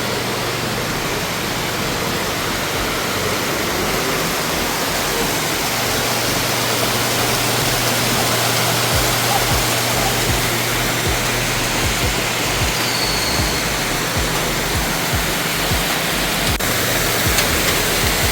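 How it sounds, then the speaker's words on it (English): Waterfall pouring inside the Ramayana Cave at Batu Caves, Malaysia: a steady, dense broadband rush of falling water filling the cave, constant and loud for the whole stretch with no voices over it. "There's even a waterfall."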